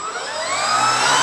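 Fi 186 Storch model airplane motor running at throttle: a whining electric motor climbs steadily in pitch and grows slightly louder over about a second, close and continuous, with no voices.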